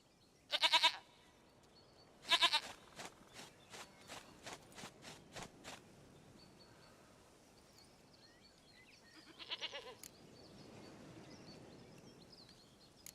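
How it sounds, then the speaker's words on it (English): A goat in The Witcher 3 gives a few loud, sharp bleats, then a series of shorter quieter bleats and clip-clopping steps, with another bleat later before fading into soft ambience. "Goat of mine, dearest, sweetest goat."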